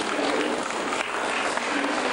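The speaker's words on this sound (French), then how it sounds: "Voilà, monsieur Paul Tomatis, vous pouvez applaudir très fort." Steady, dense applause from a crowd, continuous clapping filling the space without pause.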